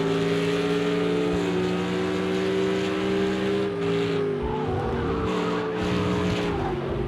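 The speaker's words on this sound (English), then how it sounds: "Keeping it all flat on the gas all the way out of here." Race car in Project Cars 2 on the Imola circuit, engine held flat out while accelerating out of a chicane; a loud, steady high-revving whine that climbs and shifts pitch, with some tire noise, no talk.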